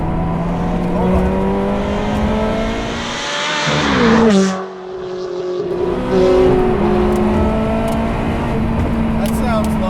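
Ferrari 360 Challenge Stradale on its factory exhaust, engine droning loud and close while driving, rising and falling with revs through a brief lift near the middle, with a voice talking over it.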